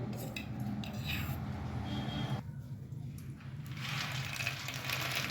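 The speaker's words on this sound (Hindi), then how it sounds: "मखानों को सेकेंगे।" Makhana (fox nuts) roasting in ghee in a pan over a low flame, giving a steady crackling, rattling sizzle throughout, with a busier, brighter stretch of stirring near the end.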